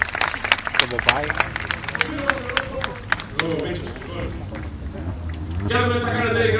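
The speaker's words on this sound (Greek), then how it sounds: "Για πάμε λίγο να με χειροκροτήσουμε δυνατά" Loud, dense audience clapping fills a Greek live show, with crowd noise beneath and a voice talking over the applause as it tapers off.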